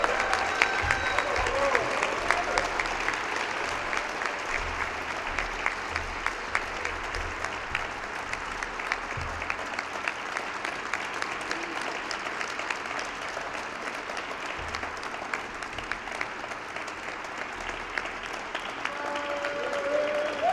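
Sustained applause from a press conference audience at the University of Detroit Mercy, welcoming new men's head basketball coach Bacari Alexander, a dense steady clatter of many hands lasting throughout with slight crowd murmur underneath.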